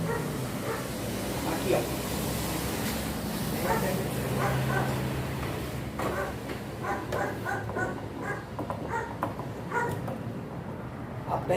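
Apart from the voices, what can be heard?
neighbour's small dog barking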